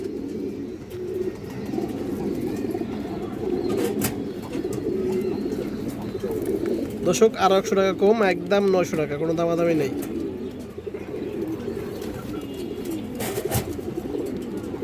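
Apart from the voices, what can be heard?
pigeons cooing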